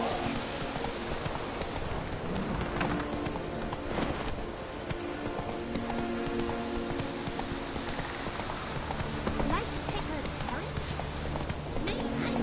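Horse hooves galloping steadily in The Witcher 3, a fast continuous clip-clop set against a dense game soundscape with music and ambience.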